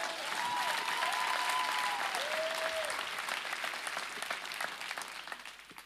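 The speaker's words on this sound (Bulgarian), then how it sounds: "Clap your hands if that's true." A conference audience claps in loud, dense, sustained applause that gradually fades toward the end.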